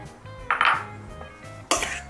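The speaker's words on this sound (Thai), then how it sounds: "คลุกอีกทีก็เสร็จเป็นอันใช้ได้ค่ะ" Spicy pork belly salad tossed in a bowl brings a few close clinks and scrapes of utensils against the dish, sparse and brief, with no talk.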